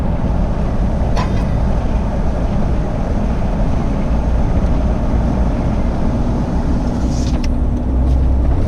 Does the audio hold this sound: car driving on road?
yes